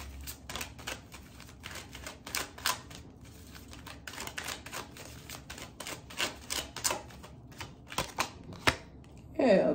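Tarot cards being shuffled and drawn by hand: a close, dry run of quick papery clicks and riffles in uneven bursts, ending with a brief louder flutter.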